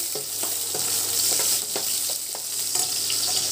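Mustard seeds, curry leaves and green chillies fry in hot oil with a bright, continuous sizzle, while scattered crackles and soft stirring scrapes sound close by.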